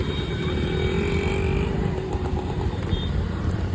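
A motorcycle engine idles and runs steadily at close range, with a continuous low rumble and faint clatter throughout, outside a D-Mart store in Surendranagar, India.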